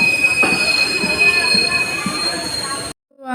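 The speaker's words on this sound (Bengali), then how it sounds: "রাস্তা থেকে ট্রেন আসবে" A train pulls into a station with its wheels squealing, a steady high-pitched screech over a rolling rumble that runs for about three seconds and then cuts off abruptly.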